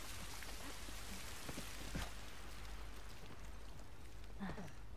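Steady rain falls in The Last of Us as a constant even hiss, with a few soft knocks and thumps breaking through now and then. Nobody speaks.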